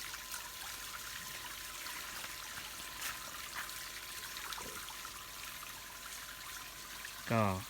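A solar-powered fountain in front of a house sends a steady, soft trickle of water, faint and continuous, with a brief voice breaking in at the very end.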